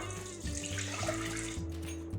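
About a cup of liquid poured into a homemade gummy mixture in a kitchen, giving a steady, close splashing pour that runs for a couple of seconds without talk.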